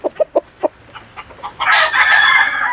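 A Boston roundhead gamecock rooster gives a few short clucks, then lets out a loud, close crow that carries to the end.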